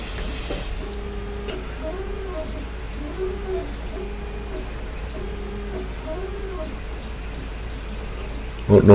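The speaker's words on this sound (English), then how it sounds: "that you hear in the background, that is the 3D printer going" A 3D printer prints a toy, its stepper motors whining in a repeating pattern of rising and falling tones at moderate volume in the background, with a brief knock near the end.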